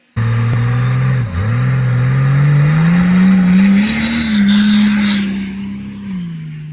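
A 2nd gen Cummins diesel truck with triple turbos launches down a 1/8 mile strip, a loud close engine roar holding a sustained pitch, dipping briefly then climbing again before easing off.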